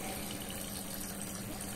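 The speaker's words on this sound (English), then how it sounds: "the water has started to flow inside the filter, and as you can see, we are now seeing some bubbly water" Water flowing through a hollow fiber water filter housing, a steady, faint, broadband rushing and gurgling of bubbly water, continuous and even throughout with no voices.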